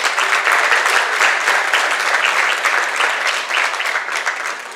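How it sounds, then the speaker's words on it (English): Audience applause for pageant contestants at a Miss, Junior Miss and Little Miss Pocomoke 2021 event, loud, lively clapping from a crowd, close and continuous, gradually thinning toward the end. "Please give all of our ladies and contestants a round of applause."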